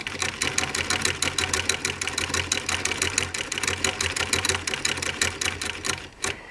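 A Singer Model 20 toy sewing machine stitching in a rapid, steady mechanical clatter close by, running without pause for several seconds before stopping abruptly near the end.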